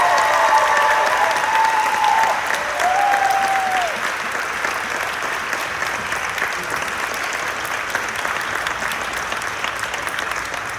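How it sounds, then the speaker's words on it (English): A large crowd applauding steadily at a school graduation for about ten seconds, with a couple of whistles early on and the clapping easing slightly toward the end. "Let's give them a big round of applause."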